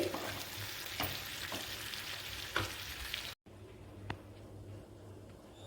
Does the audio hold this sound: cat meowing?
no